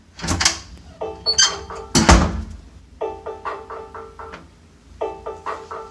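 A door is shoved open with a heavy thunk, and a Ring Alarm home security system answers with repeated, clear electronic warning beeps in short bursts. The beeps pause and then resume loudly nearby.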